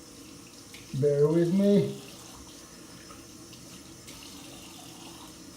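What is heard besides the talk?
tap water running while rinsing a razor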